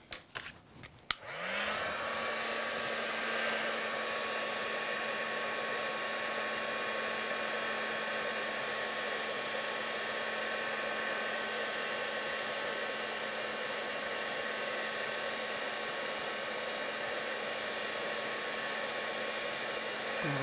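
Heat embossing tool blowing hot air over embossing powder on a crafting project: a steady, fairly loud whirring fan hiss that starts after a few brief clicks and runs on unchanged, with no talk.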